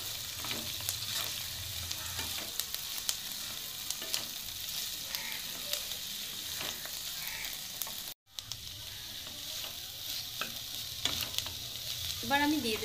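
Potatoes and drumstick flowers being stir-fried in a pan for a poppy-seed dish, with soft continuous sizzling and repeated scraping stirs of a spatula, close and moderately quiet, with a brief gap partway through.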